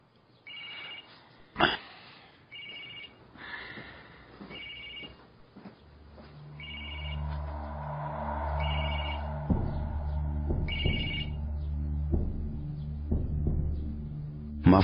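An old-style telephone bell rings in repeated bursts with pauses, fairly close and clear, later joined by a low droning background tone in a dramatic TV scene.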